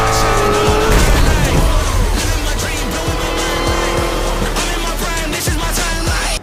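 Race car from the Forza Motorsport video game, a loud, sustained engine roar with shrill tire squeal and skidding layered throughout, close and continuous.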